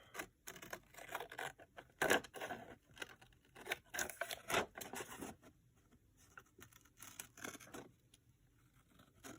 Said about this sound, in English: And then I cut this doohickey out.